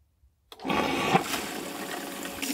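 A sand filter pool pump switches on after a brief quiet moment, and a loud steady rush of running water follows and holds through to the end.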